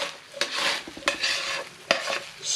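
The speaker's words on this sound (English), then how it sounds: "I'm going to go back over to the baked beans. Don't let them cook too long, otherwise that sugar starts to caramelize and burn." Baked beans cooking in a pan on a hot griddle, a steady close sizzle broken by three sharp utensil scrapes as they are stirred and pushed around.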